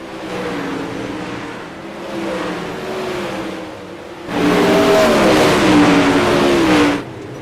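Sprint cars racing on a dirt track in the RPES 360 sprint car series, with a steady droning engine roar from a distance that swells into a louder, closer pass lasting a few seconds before falling back.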